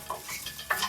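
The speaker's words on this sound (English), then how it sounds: "start stir frying at a high temperature" Potatoes and asparagus stir-fry in a hot skillet with no oil. A soft sizzle runs under brief scraping stirs from a utensil, and nobody speaks.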